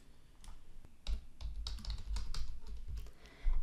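Brisk keystrokes on a computer keyboard as a name is typed, a quick irregular run of close clicks with short pauses and no talk.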